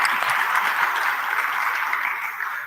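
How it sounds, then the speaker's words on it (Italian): An audience at an environmental seminar breaks into steady, dense applause that holds at an even level throughout, close and full without any voices over it. "We can applaud."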